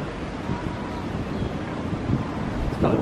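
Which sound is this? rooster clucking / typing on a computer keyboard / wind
wind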